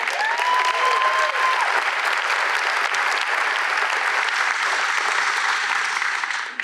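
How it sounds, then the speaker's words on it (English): Applause at a school graduation ceremony: a large audience claps in a loud, sustained, even roar that holds steady for several seconds, with a brief voice at the start before fading slightly at the end. "One more round of applause for"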